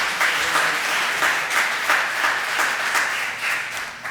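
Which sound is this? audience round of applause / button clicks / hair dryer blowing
audience round of applause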